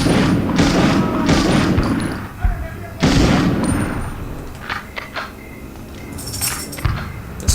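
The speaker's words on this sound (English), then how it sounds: "Did somebody just throw a grenade?" Explosions and gunfire erupt in the Medal of Honor video game, with several heavy booms and crackling bursts up close and a player's voice talking between them.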